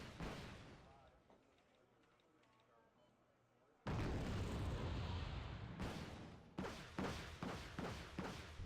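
Anti-tank TOW missiles launch in the Wargame: Red Dragon strategy game: one sudden, loud roaring blast, then a sustained rumble and a rapid series of sharp bursts and thuds close together.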